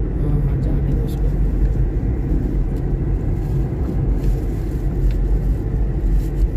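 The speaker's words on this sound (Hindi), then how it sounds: "वहाँ से गाड़ी आ रही देखिए।" A car approaches along a dirt track near Badr outside Madinah, heard as a steady, continuous low rumble of engine and tyres under open-air wind.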